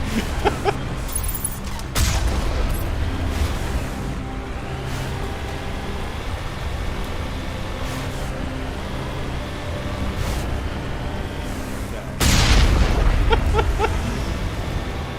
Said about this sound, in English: you see these rockets flying at me?